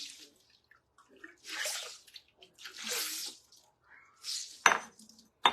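A sponge is rinsed in clean water and squeezed. Soft splashing and wringing come in several separate bursts with quiet gaps between them, and a sharp clink of dishware sounds near the end. No talking.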